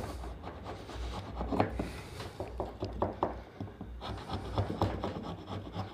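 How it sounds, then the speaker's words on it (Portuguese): A wood rasp works over the curved edge of a wooden drawer handle in a woodworking shop, making repeated close, coarse rubbing strokes in an uneven rhythm with a brief pause near the four-second mark. "Aqui é só passar a grossa, manter ela posicionada do lado reto"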